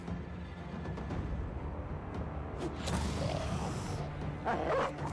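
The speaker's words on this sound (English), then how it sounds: "Stupid dog, why wouldn't you go after the ones that are fleeing?" A war dog in the video game Battle Brothers gives a few short, quiet yips and barks amid a murky layer of battle sounds and creaking, with clicks and a brief brighter burst near the end.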